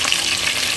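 Chicken pieces browning in a pan give a close, even hiss of frying oil, steady and unbroken for a short moment with no voices.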